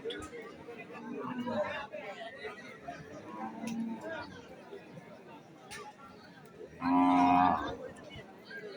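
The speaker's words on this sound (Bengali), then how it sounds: "এ পাশে সুন্দর সুন্দর গাভী আছে।" Cows at a traditional Shahjani cattle market, with one loud, close moo standing out over a steady background of people chattering.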